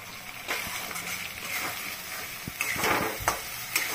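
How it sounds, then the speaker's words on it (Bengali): Spice masala frying in oil in a pan for biryani, with a soft steady sizzle broken by several scraping stirs and clinks of a spoon, close and moderately loud without talk. "মশলা দিয়ে পুরো তেল বেরিয়ে গেছে আর আমার কষানো হয়ে গেছে।"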